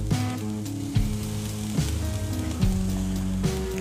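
Beef kebabs sizzle steadily on a grill with a loud, close crackle. Music with regular beats plays over the sizzle.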